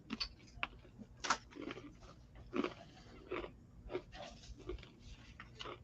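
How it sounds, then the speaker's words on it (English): Someone eats a crunchy food close to the microphone, giving a string of short, sharp crunches at irregular intervals against quiet room noise. "Can you hear me crunching?"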